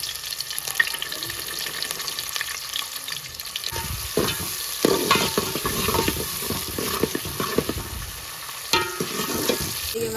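Vegetables, including green chillies and green tomatoes, fry in oil while being stirred, a close hissing sizzle with repeated scraping and clattering strokes of the spoon in the pan.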